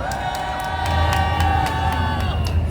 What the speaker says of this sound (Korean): 우리 장소영 선생님과 촛불 시민분들께 큰 박수 부탁드리겠습니다